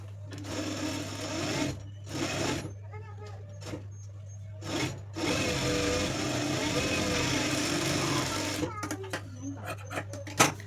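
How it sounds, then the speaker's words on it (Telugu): A sewing machine stitches a blouse kaja patti strip in rapid whirring bursts, stopping and starting several times, close up with a constant low hum and occasional speech between runs. "ఇప్పుడు వచ్చేసి కాజాపట్టి స్టిచ్ చేసుకోవాలన్నమాట"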